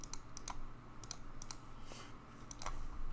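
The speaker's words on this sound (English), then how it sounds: "I have a loud keyboard." A loud computer keyboard clatters with sharp, irregular clusters of key clicks close to the microphone, bursts of typing separated by short pauses.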